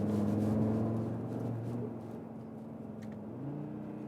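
Audi RSQ3 Sportback 2021 with its 400 hp engine pulling uphill in RS mode with manual shifting, heard from inside as a steady humming drone that dips and then climbs again after a gear change, with no speech.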